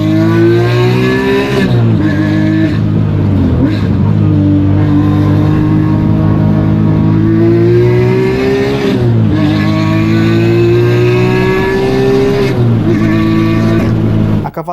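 Porsche 911 GT3 RS engine revving hard and loud close up, strong rising and falling harmonic exhaust note through several gear shifts, echoing off a trackside barrier, no talking.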